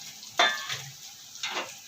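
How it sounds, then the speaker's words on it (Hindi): Fenugreek seeds fried in hot oil in a pan for tomato soup give two short sizzling bursts as they are stirred, close and brief with no talk. "अब हम इसे फ्राई कर लेते हैं।"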